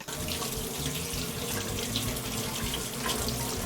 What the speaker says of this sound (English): All it needs is a bit of a rinse.